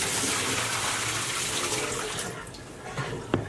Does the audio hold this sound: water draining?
yes